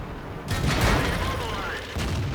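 A KV1 tank cannon firing in World of Tanks, one heavy booming shot with a rumbling tail followed by battle noise, with a voice talking over it.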